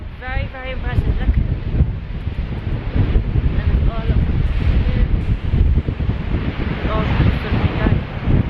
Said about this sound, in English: I can't talk very loudly and it's very windy.